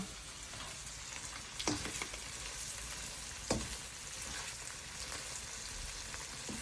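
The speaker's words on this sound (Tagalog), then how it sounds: "Sige, halo mo pa, girl. Kailangan maluto yung corn beef tsaka yung potato." Corned beef and potato fry in a pan while being stirred. A soft, steady sizzle carries through, with two louder spoon scrapes against the pan.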